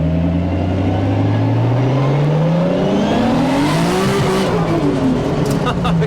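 A BMW E90 335i with the N54 engine accelerates hard at a roll racing event, its loud engine note climbing steadily through the revs as it passes close by, with voices talking over it.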